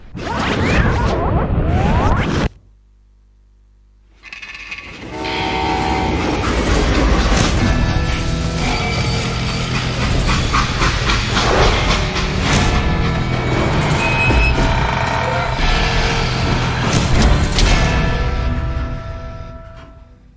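A train running in Call of Juarez Gunslinger, loud rushing and rattling rail noise with clanks and whooshes, briefly dropping to a low rumble before the full clatter returns and carries on.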